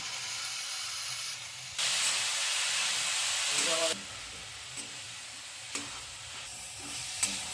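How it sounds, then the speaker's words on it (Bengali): Boiled banana flower hits a pan of spiced chickpeas with a loud, broad sizzle that surges for about two seconds, then settles into quieter frying with a few soft clinks from stirring. "ছোলা মশলা দিয়ে আমার কষা হয়ে গেছে, এবার সিদ্ধ করা মোচাটা আমি দিয়ে দিচ্ছি।"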